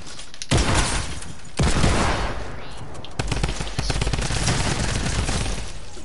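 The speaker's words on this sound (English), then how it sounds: "So you can see how bad the shotgun is." Shotgun firing in a video game, with several heavy blasts about a second apart followed by steady gunfire and clatter, loud and close.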